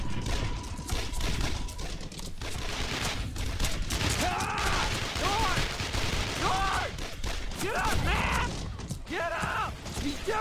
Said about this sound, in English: Keep shooting! No one breaks through!